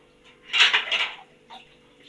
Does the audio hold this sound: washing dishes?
yes